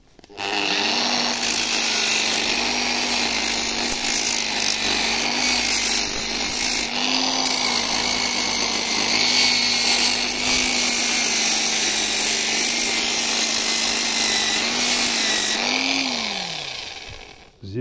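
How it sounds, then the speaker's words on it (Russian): Angle grinder fitted with a 36-grit sanding disc working a sea buckthorn wood box blank: a steady, loud, close whine held for the whole stretch, with slight load changes and a spin-down at the end, no talking. "я беру болгарочку 36 номер и шлифую на коленке"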